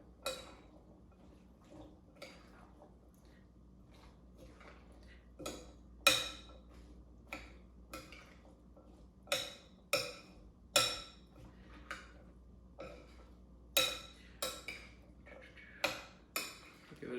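Salad vegetables tossed with dressing in a bowl: irregular clinks and scrapes of a utensil against the dish, fairly close, with soft wet rustling between the taps.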